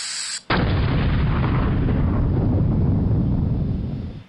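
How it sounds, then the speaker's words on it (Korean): A gas pipe ruptures and explodes at a staged disaster drill scene, a sudden loud blast followed by a sustained roaring rumble that fades over several seconds. "지금 재난 현장 가스 차단 조치 중에 가스 배관 균열로 폭발이 발생했습니다."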